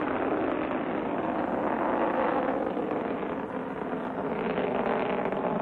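Atlas rocket launching a Mercury spacecraft, a steady broad roar that holds near full strength throughout with no voices over it.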